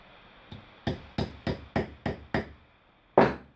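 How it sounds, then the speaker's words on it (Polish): A small hammer taps a Zetor/Ursus tractor part in seven sharp, evenly spaced metallic knocks, followed by one louder, ringing strike after a short pause, with no talk. "I następnie bierzemy sobie młoteczek i sobie tak robimy."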